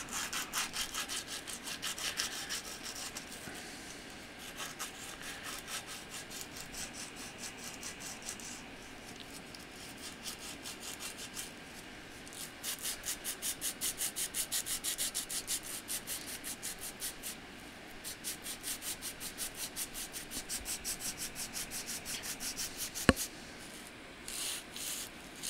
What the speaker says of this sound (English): So I'm going to sand the heck out of this bad boy